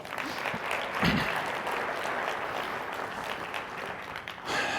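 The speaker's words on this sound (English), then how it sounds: "how about we give a little CRU, CSP a round of applause" Conference audience claps for a team at a marketing talk, a moderate steady round of applause filling the room, with a faint voice and a brief thump near the start.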